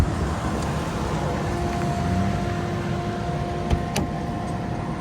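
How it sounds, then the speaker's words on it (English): Steady whirring hum of the radiator cooling fans on a widebody Dodge Charger Hellcat running continuously after shutdown, with a faint tonal whine and a brief click near the end, no talking. "I'm gonna step out so you guys can hear the fans"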